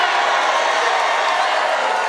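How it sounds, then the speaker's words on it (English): A large rally crowd in Rocky Mount, North Carolina cheers and roars loudly and continuously, a dense wash of voices and whoops with no break. "And what a crowd."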